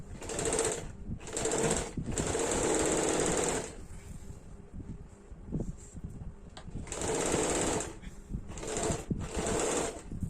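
A sewing machine stitches the side slit seam of a deep-neck kurti: two long runs of loud, steady whirring close by, separated by a quieter spell of handling and motor hum, with no talking.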